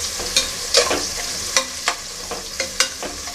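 Onions fry with ginger and garlic in a pan, giving a steady close sizzle broken by regular scraping stirs of a spoon, with no talk.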